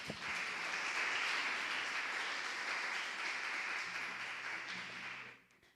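Sustained church congregation clapping fills the room for several seconds at an even level, then fades out quickly at the end.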